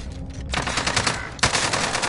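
Rapid automatic gunfire from a multiplayer shooter tournament match: sustained bursts of close, loud machine-gun fire with a brief pause, then a sharp louder volley resuming.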